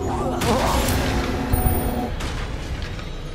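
Confringo blasting spell exploding in Hogwarts Legacy, a loud booming burst with crackling debris over game music and effects, while a voice speaks over the din.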